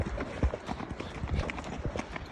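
Horse hooves on a trail near Kaindy Lake, Kazakhstan, a quick, uneven run of close clip-clop steps over outdoor background noise.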